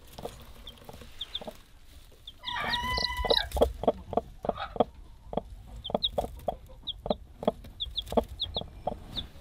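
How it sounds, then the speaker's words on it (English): A newly hatched baby chick, likely a young rooster, peeps in quick high repeated chirps in an Alaskan coop, with louder hen clucks and rustling nearby and no talking. "But that's the first new baby chick."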